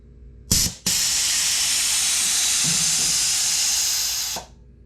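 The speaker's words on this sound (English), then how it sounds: "Sorry about the noise of filling the tank." Loud steady hiss of an air tank filling for an electric center stand on a Harley Road Glide, a brief burst then a continuous rush of air for several seconds before cutting off, with faint clicks underneath.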